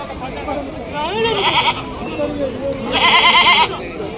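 At a weekly goat market, two loud, quavering goat bleats ring out close by, one early and a longer one near the end, with people talking around them.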